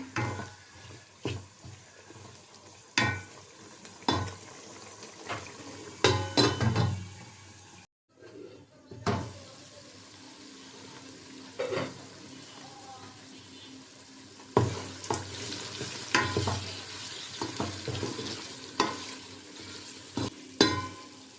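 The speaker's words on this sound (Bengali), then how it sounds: "গোষ্ঠটা একটু নাড়াচাড়া দিয়ে দিলাম" Beef is stirred in a pot and gives a soft ongoing sizzle, broken by repeated clanks and scrapes of a utensil against the metal and one short pause partway through.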